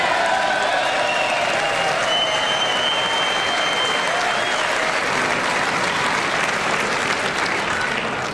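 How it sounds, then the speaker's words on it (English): Loud, continuous applause fills a large chamber during a State of the Union address, a dense crowd clapping steadily at full strength throughout, with faint voices mixed in. "And the clapping went on for a long"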